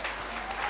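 Congregation at a church service applauding to acclaim the Lord, a brief burst of dense, steady clapping at moderate distance.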